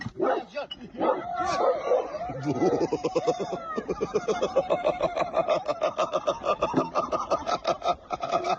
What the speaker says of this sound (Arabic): ودوي نباح الكلب